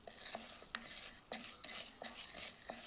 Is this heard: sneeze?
no